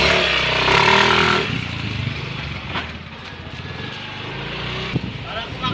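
A Yamaha Mio 125 scooter engine on a test drive runs steadily throughout, louder and rougher in the first second or so, then settling into a lower drone with occasional clunks, with a voice speaking over it.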